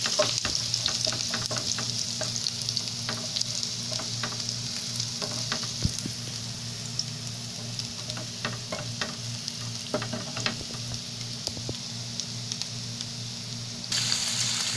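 Chopped onion fries in a pan that already holds garlic, giving a loud, continuous sizzle with frequent sharp clicks and scrapes from stirring. The sizzle runs for about fifteen seconds with no speech.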